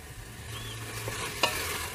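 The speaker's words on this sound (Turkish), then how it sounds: "Biraz da soğanlarla kavrulacak." Meat and onions sizzle quietly in a hot pan, a steady soft frying hiss with a brief stirring scrape partway through.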